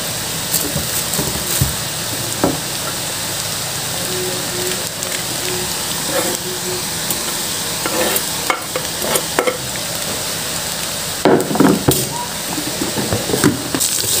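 Fried tempeh and onions stir-fried in a pan give a steady close sizzle with repeated spatula scrapes and clacks against the pan throughout, and no talk.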